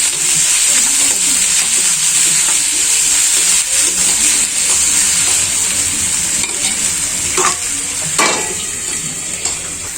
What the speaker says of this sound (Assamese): আৰু পুনৰ অকণমান ভাজি দিম।